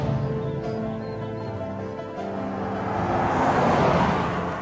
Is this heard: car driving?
yes